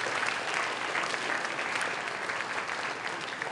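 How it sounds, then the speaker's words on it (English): Audience applause at a math and magic show, a full, even roar of many hands clapping at once, loud and sustained without pause. "let's all give Camille a nice round of applause"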